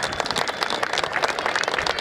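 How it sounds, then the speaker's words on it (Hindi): Audience at an Agrasen Jayanti kavi sammelan, a Hindi poetry gathering, breaks into loud, dense applause for the poet Hemant Pandey. The clapping sounds thick and continuous for about two seconds. "जोरदार तालियां, दोनों हाथ उठाएं हेमंत पांडे जी के लिए"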